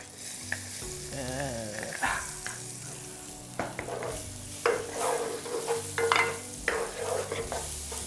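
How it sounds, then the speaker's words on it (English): Garlic sizzles and crackles steadily in a hot pan while it is stirred for ash plantain soup, with occasional scraping clatter. "while this is frying up"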